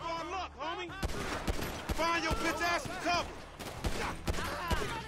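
Pistol shots ring out in a Grand Theft Auto 5 shootout, sharp cracks spaced irregularly through the scene, mixed with other gunfire and voices talking over the action.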